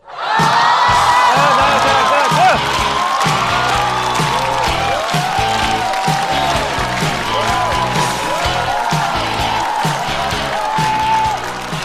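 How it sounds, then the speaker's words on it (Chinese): A stand-up comedy audience in a large venue claps and cheers loudly as the next comedian comes on stage, with dense sustained applause, whoops and shouts that swell at the start and hold steady before tapering off. "掌声有请"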